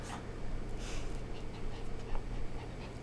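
A pet dog pants close by in a room, quick breathy puffs with faint rustling as it rubs against a person sitting on a chair, steady and moderately loud throughout.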